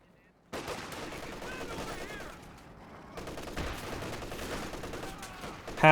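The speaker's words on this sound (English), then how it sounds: "Pack howitzer fires away," Pack howitzer and other gunfire in the Company of Heroes 2 video game: bursts of rapid shots and heavy booms, with a quieter stretch in the middle and a sudden loud blast at the end.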